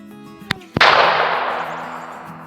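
A rifle being sighted in fires a single sharp, loud report, preceded by small mechanical clicks. A bright blast follows that rings and fades over about two seconds.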